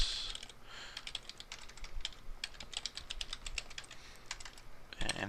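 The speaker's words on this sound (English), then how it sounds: "I'm going to type in the FTP address." Fingers type an FTP address on a computer keyboard, a quick, irregular patter of crisp key clicks running steadily and close, quiet overall, with a heavier clack near the end as if a key is struck firmly.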